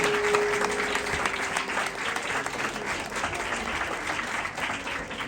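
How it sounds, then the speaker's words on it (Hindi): Sustained applause from a church congregation at an Ascension Day service, steady and fairly loud throughout, with dense clapping and no break. "आपने यीशु के लिए भरपूर तालियां बजाएं"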